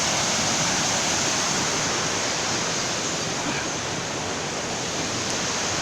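Fast-flowing water rushes steadily, a dense, continuous broadband roar close by with no pauses.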